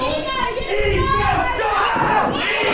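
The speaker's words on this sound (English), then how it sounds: "the King Baldwin has got the crowd to chant, Ego sucks. Ego sucks." Wrestling crowd at an MWF Saturday Night show chanting in unison, a dense loud wall of voices with rhythmic shouted phrases and some thuds.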